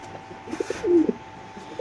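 A caged pigeon at a pigeon market gives a short, close coo, a single rising call standing out over a quiet hum of the surroundings.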